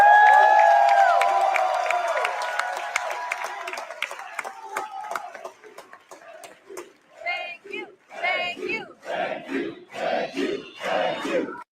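Professional wrestling crowd at a live show cheering and chanting, a loud roar at first that fades, then rhythmic bursts of chanting voices rising and falling in repeated waves.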